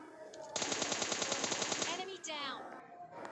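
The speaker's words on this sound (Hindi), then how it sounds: "मैं इसके 2-3 गोलियाँ ही मारता हूँ, इससे ये ख़त्म हो जाता है" A rapid string of automatic gunshots rings out in PUBG Mobile Lite, an evenly spaced burst lasting about a second and a half, loud and up front, followed by quieter game sounds.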